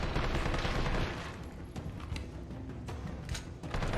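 Gunfire rattles in the Resident Evil 3 Remake as zombies are shot down. Dense bursts of rapid shots come first, then scattered sharper cracks over a few seconds, without speech.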